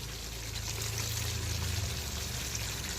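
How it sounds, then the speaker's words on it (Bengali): Boiled water pouring into a pan of prawn curry gravy, a close, steady gushing splash that runs unbroken for a few seconds. "দিয়ে দিলাম ফোটানো জল"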